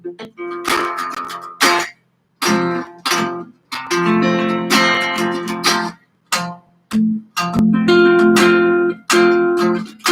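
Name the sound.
guitar chords on the bottom four strings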